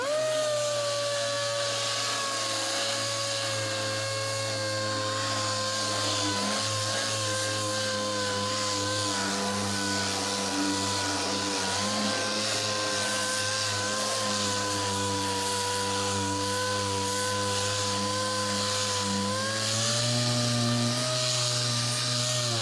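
Power sander fitted with 6-inch adhesive sanding discs runs steadily across the steel body of a 1930 Ford hot rod, a loud continuous motor whine and grinding hum that holds for the whole stretch, shifting slightly in pitch near the end.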